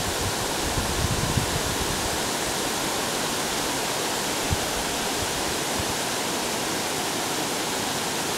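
A waterfall at an old mill dam on a river roars in a constant, broadband rush of falling water, loud and unbroken, with no other sounds standing out.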